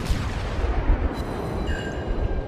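A destroyer's torpedoes hit in a naval battle video game, producing a dense rumbling roar of explosions with deep booming bursts that carry on continuously and loudly, with no talk.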